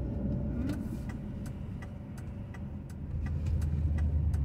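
A car creeps slowly through packed traffic, its low engine hum steady beneath sharp, regularly spaced ticking clicks, and the rumble swells slightly near the end.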